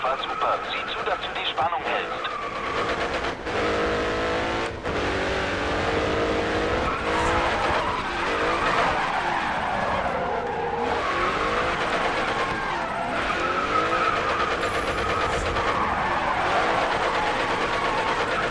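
Tires squeal and skid as a car drifts in the racing game GRID Autosport, with a sustained engine whine and screeching slides under continuous talking.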